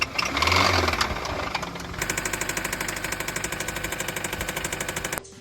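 A Hyundai GDI engine runs with a rapid, even metallic knocking ticking over a steady idle, loud and close, after a brief louder rev at the start, then cutting off abruptly near the end.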